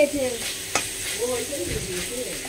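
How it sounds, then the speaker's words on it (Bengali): Spiced chicken mince with soy sauce is stir-fried in a little oil, making a close, continuous sizzle with scraping stirs and one sharp clack near the start. "এখানে আর এটা মশলা কষাচ্ছি চিকেন"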